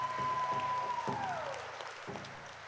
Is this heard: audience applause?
yes